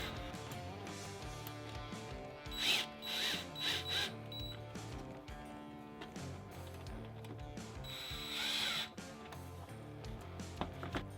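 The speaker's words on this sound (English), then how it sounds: "We're going to take our 8mm and we're just going to go and tighten it just enough to be snug" An 8mm socket on a ratchet snugging intake hose clamps during an aFe Stage 2 cold air intake install on a Ford Raptor, giving quick runs of close metallic clicking with brief pauses between bursts.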